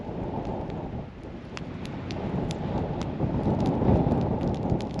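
Gusty wind roars outdoors under a cloudy sky and buffets the microphone in a dense, steady rush that swells toward the end, with faint clicks and no talking.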